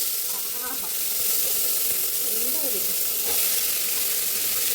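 Ingredients for a chicken curry dropped into a hot pan on a low simmer, giving a steady, close hiss and sizzle that stays even throughout, with faint voices underneath.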